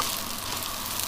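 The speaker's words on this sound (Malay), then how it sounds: "Gorenglah nasi tu, kacau-kacau hingga semua bahan tu" Dried-shrimp fried rice stirred and frying in a hot pan, a continuous close sizzle with soft hissing throughout, no voices.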